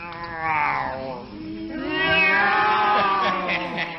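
A single drawn-out cat meow rises and falls over about four seconds, close and clear with no other sound. It may be a voice imitating a cat.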